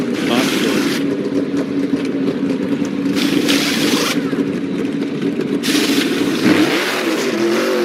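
A stock car engine revs hard in second gear during an all-star qualifying lap, a loud sustained drone rising and falling in pitch as the car accelerates past.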